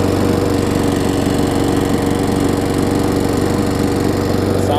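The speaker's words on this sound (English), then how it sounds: "I'm gonna let it run for a few minutes." A Craftsman self-propelled lawn mower with a Tecumseh engine runs steadily at close range, a loud, continuous buzzing drone with an even throb and no talk.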